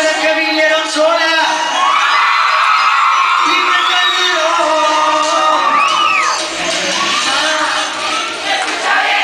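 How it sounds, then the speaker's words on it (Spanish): Concert crowd at a launch event shouting and whooping loudly and continuously, with high cheers rising over the dense noise of many voices. "Yo quiero una bulla a las mujeres que vinieron solas."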